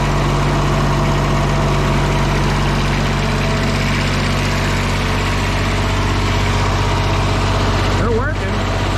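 A generator bought at auction in inoperable condition runs with a steady, loud idling drone and deep hum throughout, with a brief rising whine near the end.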